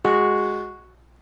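Fortnite music blocks sound several notes at once as a single bright, bell-like chord. It strikes sharply and rings briefly before fading within about a second.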